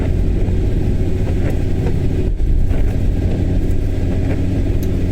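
A car drives along the M9 motorway, giving a continuous close engine and road rumble with steady tyre noise and no speech.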